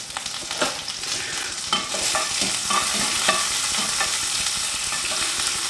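Onions fry and sizzle loudly in a pan, a dense continuous hiss broken by scraping stirs and occasional clacks of the utensil, close up with no talking.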